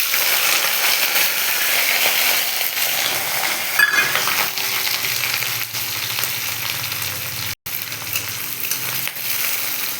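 Chopped garlic and ginger frying in hot oil in a pan for chilli chicken. A loud, continuous sizzling hiss fills the whole stretch, with a brief scrape midway and a momentary dropout near the end.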